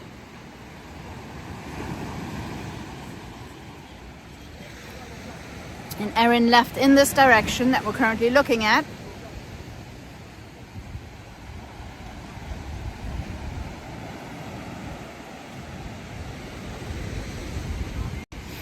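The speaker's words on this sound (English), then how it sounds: "You always have waves here." Ocean surf rolls onto Baie Rouge beach on the French side of St. Martin the day after storm Erin, a steady wash of waves with wind buffeting the microphone while someone talks briefly.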